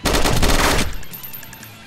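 A loud, close automatic weapon in DayZ rips off a rapid sustained burst of shots, then cuts off into a fading echoing tail.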